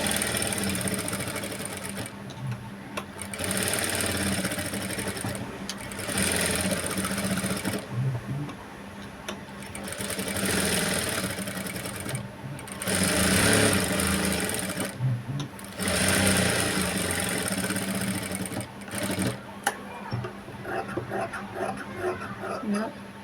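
A sewing machine stitching blouse sleeves runs in long continuous whirring bursts separated by brief stops, close and steady, with a voice talking faintly underneath at times.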